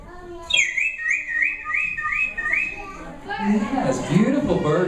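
A person whistles a repeated bird call imitation, a short rising phrase repeated several times, then a voice talks over further chirpy whistling.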